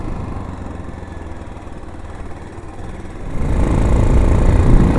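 A Honda motorcycle engine hums steadily while riding, then swells louder and rougher as the revs climb near the end, with wind rush mixed in and no talking.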